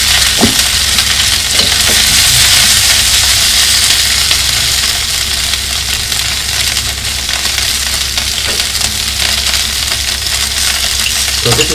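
Onion and chili pepper stir-fry for Thai chicken cashew, giving a loud, continuous close-up sizzle with faint clinks of stirring throughout and no talking.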